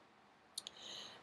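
A computer mouse gives two quick, faint clicks in a row, close and crisp against a quiet room hiss.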